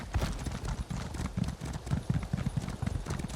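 A horse's hooves clip-clop steadily while it is ridden through the open world of Elder Scrolls Online, a moderately loud, even trot carrying on throughout.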